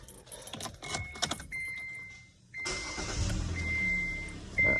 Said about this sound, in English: So I'm gonna go ahead, turn the engine on.